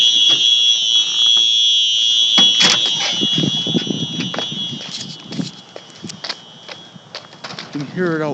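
Simplex fire alarm heard from outside during a test, a steady shrill tone sounding continuously at moderate distance, with footsteps, handling knocks and a voice speaking briefly near the end.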